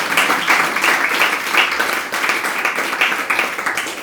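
Applause from an audience, dense continuous clapping that rises and falls in small surges and stays loud and close for several seconds without a break.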